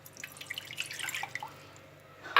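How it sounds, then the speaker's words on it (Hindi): Water poured into a container while making homemade ginger lemon honey cough drops, heard as faint, scattered splashing drips that trail off near the end. "इस कंटेनर के अंदर मैं पहले पानी डालती हूँ"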